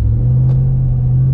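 Custom 6x6 RAM TRX truck pulling away from a stop, a loud, steady low engine rumble heard from inside the cab.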